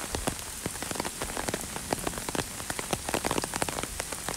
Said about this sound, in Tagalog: walang balak huminto yung ulan eh. Kaya nag-decide na kaming maglakad sa ulan